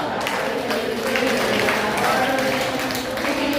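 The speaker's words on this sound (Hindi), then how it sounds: "बहुत सुंदर, तालियां।" Applause from a training-session audience, steady dense clapping under a voice speaking throughout.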